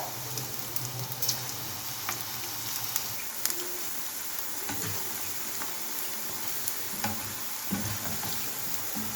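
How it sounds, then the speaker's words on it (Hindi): Small gram flour fritters (besan phulkiyan) frying in well-heated oil give a continuous close crackling sizzle, with occasional clicks and taps from a spoon. "ये देखिए हमारी एक तरफ से फुल्कियाँ फ्राई हो चुकी हैं।"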